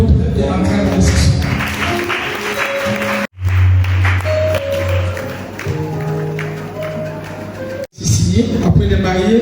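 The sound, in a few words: wedding congregation applauding the couple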